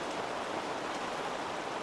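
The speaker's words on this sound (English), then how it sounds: "Holy cow, it's raining hard." Heavy rain pours down outdoors in a backyard cooking setting, a steady, dense hiss of drops hitting surfaces that stays constant and fairly loud throughout, with no voices over it.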